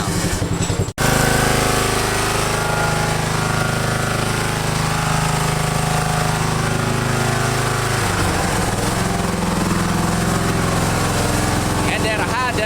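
An engine idles and revs through a homemade muffler, a loud steady rattling drone after a brief cutout near the start, with someone speaking briefly over it.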